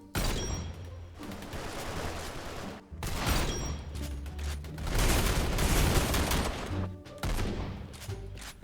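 Intervention sniper rifle fire in a gun-game shooter, several loud cracking shots in bursts separated by brief gaps, each followed by a rolling tail, with no talk.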